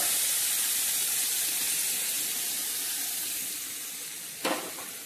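Cooked dal mixed with vakkaya poured into a sizzling tempering over lowered heat, a loud steady frying hiss that slowly fades, with a short clink of a utensil near the end.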